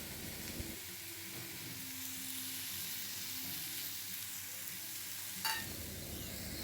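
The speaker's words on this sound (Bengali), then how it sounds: "নুন হলুদটা আমের সাথে ভালো করে মিশিয়ে নেব।" Mango pieces cooking in a pan get stirred with salt and turmeric, a steady soft sizzle running throughout with faint scraping and a brief sharper clatter near the end, no voices.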